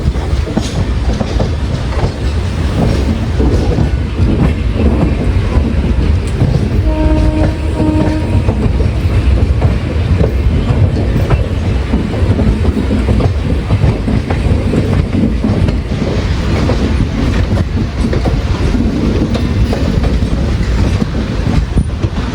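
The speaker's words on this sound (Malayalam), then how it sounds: "ഷൊർണൂർ തൃശ്ശൂർ പാസഞ്ചർ" Shoranur–Thrissur passenger train rolling on rails, heard loud and close as a continuous rumble with rhythmic wheel clatter and a brief horn note midway.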